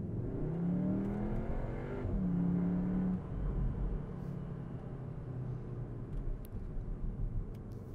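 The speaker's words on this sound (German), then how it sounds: "hier ist nochmal so ein Sound-Emulator drin, der dann nochmal so ein bisschen für den künstlichen Motorsound sorgen soll" A steady synthetic engine drone from the sound emulator of a 2020 Cupra Formentor 310 PS, with rising and falling tonal pitches, like revving, continuous and fairly loud throughout.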